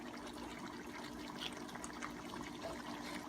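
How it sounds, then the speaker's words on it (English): A cup of beef broth is poured into a cooking pot for beef and chicken pochero, making a faint, continuous liquid trickle and splash over quiet kitchen background noise. "just a cup of beef broth"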